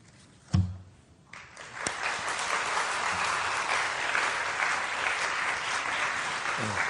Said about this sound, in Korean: 우리 목사님 나오실 때 우리 크게 박수로 환영하고 축복하겠습니다